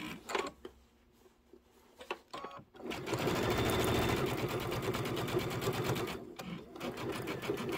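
Sewing machine piecing a quilt top, starting with a few short stops and bursts, then running in a longer steady stitching stretch, with brief pauses near the end and no talking.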